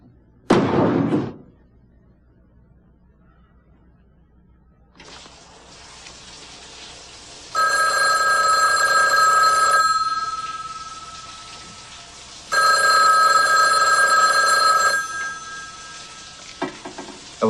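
A telephone rings in a quiet room, two long bursts of electronic ringing separated by a pause, loud and close, following a door slam at the start.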